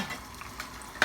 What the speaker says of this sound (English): I just saute the meat